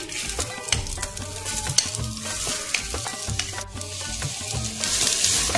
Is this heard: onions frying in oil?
yes